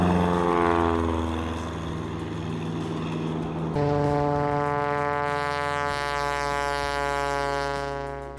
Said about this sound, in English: pilots take to the air in small planes to scout out their locations and behavior